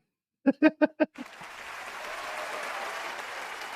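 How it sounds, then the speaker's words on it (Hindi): A few sharp spoken syllables give way to a swelling round of applause for Masood bhai, a steady broad clapping that builds and holds to the end. "तालियाँ, स्टैंडिंग ओवेशन दीजिए मसूद भाई को।"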